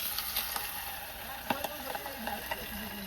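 Pabda fish frying in hot oil, heard as a steady close sizzle with scattered soft pops and crackles, quiet and without talk.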